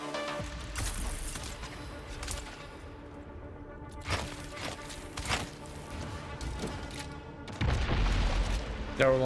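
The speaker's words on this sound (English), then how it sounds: "I'm just getting constant rocket spam." Constant rocket fire in the game Dune Awakening, dense rumbling booms and blasts rolling over one another throughout, with a heavier burst of low explosions near the end, loud and close under a busy battle bed.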